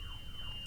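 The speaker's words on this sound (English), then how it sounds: "we have some sort of an alarm going off in the building right now" An alarm sounds in the building next door, a faint, steady high-pitched electronic whine that holds one tone under a low background rumble.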